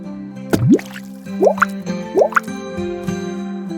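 Tears falling to the ground as cartoon-style dripping: three wet plops with rising pitch, close and clear, over a steady soft musical tone.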